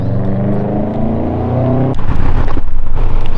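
A Subaru STI engine idles with a steady rumble, then the loud aftermarket exhaust revs with a deep, pulsing roar up close.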